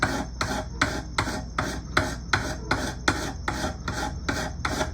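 Hand file rasping across a penjing piece in steady back-and-forth strokes, about a dozen regular rhythmic scrapes, close and clear with no talk.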